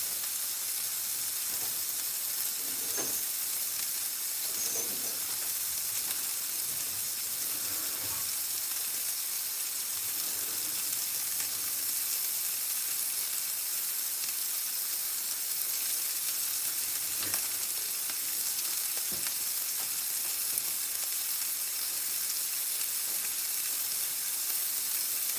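Pork burgers sizzling in a pan on a home stove, a steady crackling fry with occasional faint clinks, continuous and moderately close with no talking.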